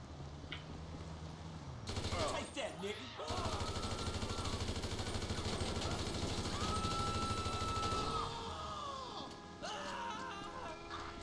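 Sustained automatic gunfire from a GTA 5 shootout, loud bursts of rapid shots continuing almost unbroken for several seconds, with brief pauses and a short quieter stretch near the end.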